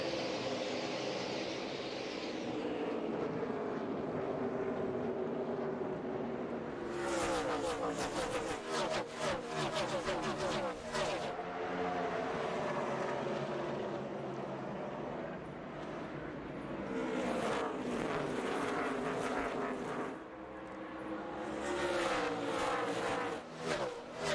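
NASCAR stock cars at the 2006 Checker Auto Parts 500 race through the first lap, a dense sustained engine roar with waves of passing cars swelling loud and fading, crowd and commentary wash underneath.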